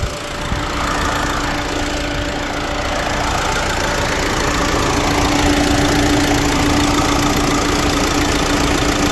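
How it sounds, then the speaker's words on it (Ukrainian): A 2012 Renault Megane engine idles steadily and close by, with a constant mechanical hum as the air conditioning compressor kicks in and keeps running. "зараз запустився компресор"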